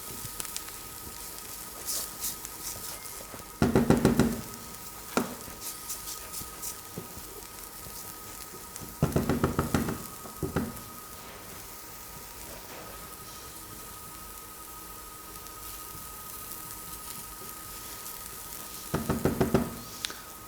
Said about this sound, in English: Then I'm also going to add the fresh thyme to that as well, and just literally just cook that to start bringing the flavours out.